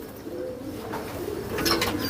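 High flyer pigeons kept in Jhalawar coo close by, a steady soft murmuring with a brief brighter call near the end.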